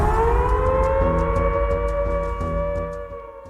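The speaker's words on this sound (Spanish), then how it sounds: "una sirena comenzó a sonar alrededor del campo de prisioneros" A civil defense siren wails around a prisoner-of-war camp, a loud sustained rising tone that holds steady and slowly fades, heard alone.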